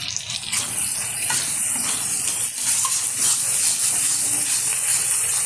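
Chopped tomato going into a simmering mutton curry gives a loud, close rush of hissing steam and sizzle that holds steady for a few seconds without any voices.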